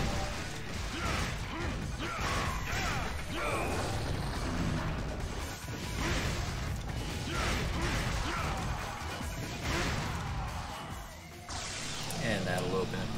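Mechanical door mechanism in Devil May Cry grinding and creaking open with ratcheting, gear-like clanks and a few heavy crashes, loud and continuous over game music, with someone talking over it.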